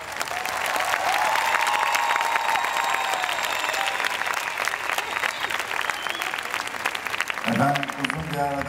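A Turkish concert crowd cheers and applauds loudly as the band takes the stage, a dense continuous wash of clapping with whistles on top, followed near the end by a voice speaking.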